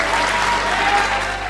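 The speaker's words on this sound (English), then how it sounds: "That brought sustained applause for the president" Sustained applause from an audience for President Trump after a remark on Jerusalem, a dense, steady wash of clapping heard alone for the whole stretch.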